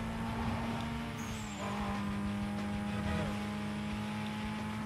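A car's engine drones steadily in the racing game Need for Speed Most Wanted, a loud sustained whine with shifting pitch and no pauses throughout.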